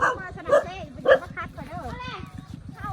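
A dog barks and yips a few times, with short sharp barks in the first second, mixed with a person speaking nearby and background rustle.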